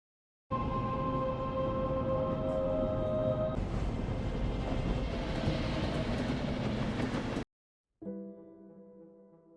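A train rumbles through a night-time station in a Korean film, a loud, steady roar that stops abruptly and then gives way to a quieter tonal hum.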